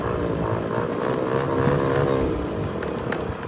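A Honda Activa scooter idles steadily at close range, its small engine and exhaust giving a continuous low, buzzing hum with no talk over it.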